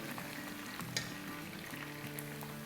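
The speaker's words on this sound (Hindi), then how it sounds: "जब तक भूनेंगे जब तक इसमें अच्छी सी तरी ना आ जाए।" Masala frying in a pan for iftari dishes, a steady, soft sizzle with faint stirring and light crackles running evenly throughout.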